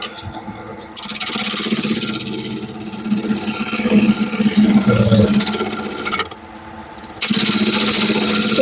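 A wood lathe turning a bowl, a large bowl gouge cutting into the spinning wood with a loud, continuous rasping scrape and high whine, broken by short pauses where the cut lifts off.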